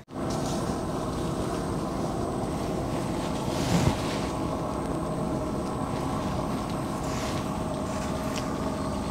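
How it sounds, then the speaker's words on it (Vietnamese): Low droning engine hum of a motorboat on a river, steady and continuous, with wind and water noise around it. "Mình chỉ nghe được những cái tiếng động cơ của ghe máy chạy ngoài sông thôi."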